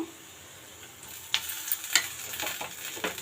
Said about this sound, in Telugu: రైస్ వేసేసుకొని బాగా కలిపేద్దాం మొత్తం అంతా